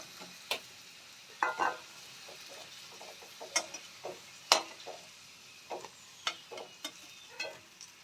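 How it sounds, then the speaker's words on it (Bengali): Potatoes deep frying in a pan, with a soft steady sizzle broken by scattered sharp clicks and scrapes of a utensil stirring against the pan. "আর একটু ফ্রাই করে নেব একটু ডিপ ফ্রাই করে নেব আমাদের আলুগুলো লাল লাল করে ভেজে নিয়েছি"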